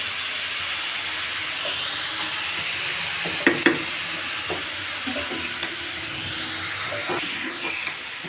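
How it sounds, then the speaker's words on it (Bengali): Grated carrots frying in a pan with a little sugar for a carrot semai dish, a steady hissing sizzle with occasional stirring scrapes, close up. "এভাবে কিছুক্ষণ ভেজে নিব"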